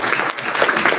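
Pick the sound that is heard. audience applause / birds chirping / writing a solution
audience applause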